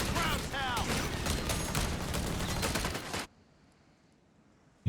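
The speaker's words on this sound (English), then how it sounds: "getting this down with just small arms fire as well" Small arms fire in a Company of Heroes 3 match, with dense crackling rifle and machine-gun bursts under a steady stream of commentator talk for about three seconds, then abrupt near-silence.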